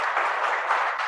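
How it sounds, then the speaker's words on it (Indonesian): Applause for the MC at a business podcast event, a steady dense wash of clapping from an audience, even and sustained throughout without pause. "Tepuk tangan buat MC kita yang luar biasa."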